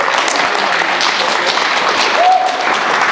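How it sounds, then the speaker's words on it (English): Warm, continuous applause from an audience at a vegan meetup, close and fairly loud, with a brief voice over the clapping. "Give them another round of applause, everybody."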